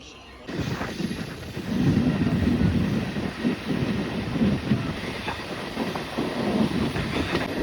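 Chamarajanagar passenger train rolling along the tracks between Bengaluru and Mysuru, a steady close rumble of wheels and carriages with faint rhythmic clatter, rising after a quiet start and continuing throughout.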